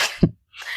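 A single short sneeze, sharp and close, followed by a brief breathy exhale.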